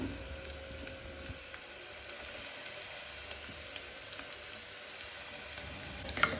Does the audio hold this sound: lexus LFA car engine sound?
no